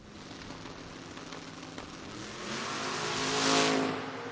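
A Ford Mustang and a wagon launch side by side in a door-car drag race. A faint, distant roar builds and swells to a broad rushing peak before easing off, with no voices.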